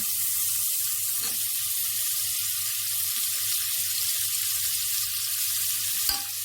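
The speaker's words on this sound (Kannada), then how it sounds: "ಇವಾಗ ನಾನು ಅದಕ್ಕೆ ಟೊಮೆಟೊ ತೊಗೊಂಡಿದ್ದೀನಲ್ಲ, ಟೊಮೆಟೊನ ಹಾಕ್ತಾಯಿದ್ದೀನಿ" Tomatoes tipped into onions frying with salt in a pan for a quick cabbage palya give off a steady, close sizzle that holds evenly throughout, with one small clink near the end.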